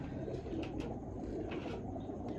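Teddy breed pigeons coo softly on a rooftop, low murmuring calls repeating under faint background noise with no talk.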